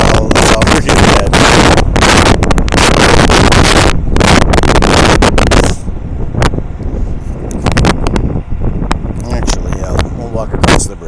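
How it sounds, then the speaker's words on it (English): Strong wind buffets a microphone outdoors on a bridge in icy conditions, loud and gusty with harsh blasts that ease after a few seconds into choppier bursts. "you think it's windy now"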